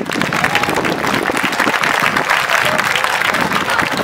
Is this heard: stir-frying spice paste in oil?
no